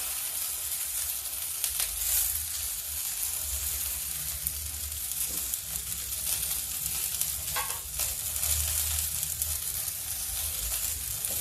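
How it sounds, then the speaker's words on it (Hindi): Okra and radish frying gently over a low flame, a constant dense sizzle of hot oil with a low hum beneath and an occasional faint stir, with no talking. "थोड़ा भून जाए धीमी आंच पे।"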